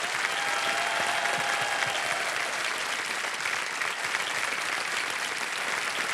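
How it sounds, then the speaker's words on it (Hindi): Sustained applause from a quiz show studio audience, a dense steady wash of clapping that holds at an even level throughout with no talk over it. "और ताली बजती रहे क्योंकि अब चेक आ रहा है इनके नाम।"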